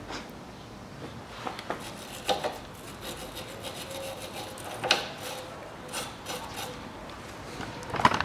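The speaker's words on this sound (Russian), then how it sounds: "А здесь щеткой по металлу немножко грязь собью." A wire brush scrubs dirt off the metal of a 2008 Dodge Caliber 1.8 front stabilizer area during a stabilizer link replacement, giving quiet, steady rasping strokes with a few sharper scrapes, heard up close.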